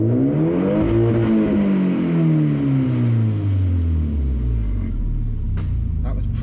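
A Volvo engine revs up through a 3-inch straight-pipe exhaust: a loud, deep rumbling roar climbing toward the limiter, then settling back into a low idle drone.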